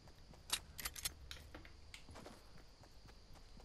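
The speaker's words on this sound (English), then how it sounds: "The footsteps sounded so much louder than normal for some reason." Footsteps in a video game, a few quick soft steps with brief clicks early on, then fainter shuffling, fairly quiet with no talk.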